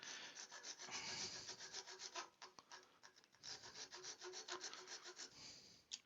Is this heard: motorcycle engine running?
no